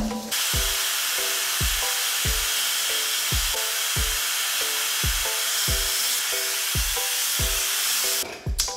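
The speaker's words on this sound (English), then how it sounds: "Blow drying for about 30 seconds on high heat, medium if you want to, but I use high." A hair dryer blows steadily on high heat over the lace of a long yaki straight wig, a loud close whooshing roar running throughout under a repeating thumping music beat, cutting out briefly near the end.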